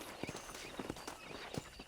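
Horse hooves clip-clopping in Red Dead Redemption at a steady walking pace, quiet and a little distant, with no talking.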